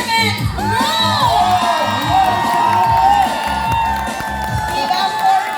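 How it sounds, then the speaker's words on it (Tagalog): A large crowd of Filipino overseas workers in Vietnam, the Garment Crew, cheers, shouts and whoops nonstop at a Christmas party, loud and dense throughout. "pakita natin ang hiyawan at palakpakan ng ating mga kababayan from the Garment Crew!"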